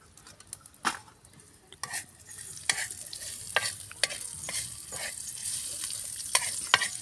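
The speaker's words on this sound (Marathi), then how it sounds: "आता हा तवा मांडला आहे चुलीवर तेल टाकलं आहे याच्यामध्ये कांदे घालून टाकू" Chopped onions fry in oil on a flat pan over a wood-fired clay stove, a steady sizzle broken by repeated sharp scraping and stirring knocks, close and fairly loud, with no talking.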